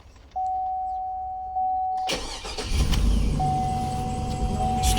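A car whose security system has been bypassed with spliced wires cranks briefly and catches with the key, its engine settling into a loud, close idle after a steady chime tone that stops and returns.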